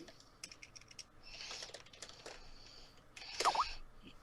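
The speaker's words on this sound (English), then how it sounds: "we heard your keyboard." Quiet clicking of computer keys, a quick burst of taps followed by a few louder, scattered keystrokes.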